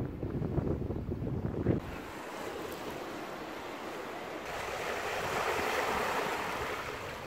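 Wind gusting across the microphone at an outdoor fishing spot by the water, a steady broad rushing roar with a heavier buffeting burst early on, no voices.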